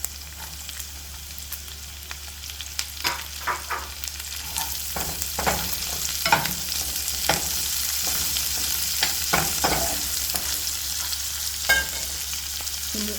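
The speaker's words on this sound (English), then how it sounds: "Then I'm gonna go ahead now and toss in my onion, my chopped onion." Chopped onion fries in a pan for a Jamaican corn pork and ackee dish, a steady close sizzle broken by repeated scraping stir strokes throughout.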